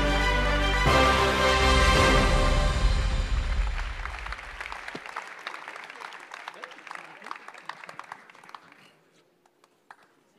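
Audience at a Mayenne sports awards ceremony applauding Lavallois boxer Jordi Weiss, loud sustained clapping that swells then gradually thins out and fades to scattered claps and silence.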